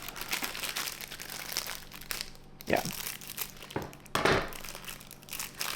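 A small plastic bag of small hardware pieces for kitchen cabinet doors is crinkled and handled up close, giving continuous rustling with louder crunchy bursts and a brief spoken word.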